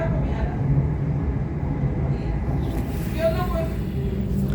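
A Sydney Trains T3 B-Train rumbles between stations, a steady low rolling drone heard from inside the carriage with a few faint squeals.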